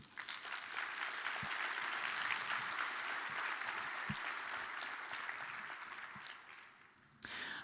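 Sustained audience applause fills a business keynote hall, steady dense clapping for several seconds that thins slightly near the end before resurging.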